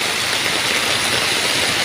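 Steady, dense hiss of heavy typhoon rain pouring down in Metro Manila, constant and loud throughout with no breaks or voices.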